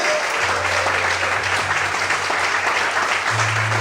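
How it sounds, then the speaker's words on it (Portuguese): A church congregation applauds steadily throughout, a dense wash of clapping with no pauses, while a low tone hums underneath. "Quando poder aplaudir o Senhor nessa noite."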